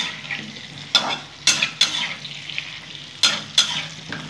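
Potatoes frying in hot oil, a steady close sizzle broken by several sharp scraping and clinking strokes of a spatula against the pan, with no voices.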